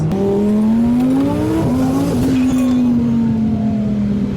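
An Audi R8 engine revving hard and accelerating nearby, a loud, steady roar whose pitch climbs, briefly drops at a gear change, then holds high and strong throughout.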